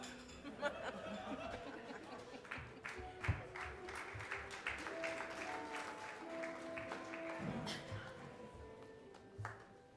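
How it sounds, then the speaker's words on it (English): Audience applause at an awards dinner, a steady wash of many hands clapping with scattered laughter and chatter mixed in, fairly distant and soft throughout. "Give him another round of applause."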